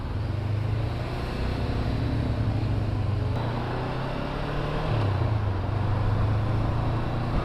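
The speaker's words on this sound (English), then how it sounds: "And traffic is much heavier." Heavy city-centre traffic in Prague on a warm day, ridden through on a Honda CB500F: a steady, close engine drone with road rumble, the engine note shifting around the five-second mark.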